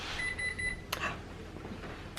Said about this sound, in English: So we get to hear what the timer sounds like.